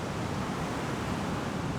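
Ocean waves and surf roll in a steady, dense wash of noise at the sea, loud and close with wind rushing over it and no pauses.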